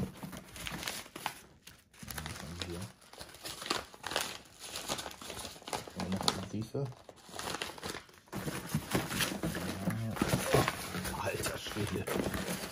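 Crinkling and tearing of fireworks packaging as a parcel of pyrotechnics is opened, close rustles in bursts with quiet talking in between.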